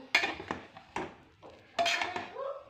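Utensil scraping and clinking inside a pot while veg pulao is stirred and mixed, a few distinct bursts of metallic scrapes with short pauses between, close and fairly clear.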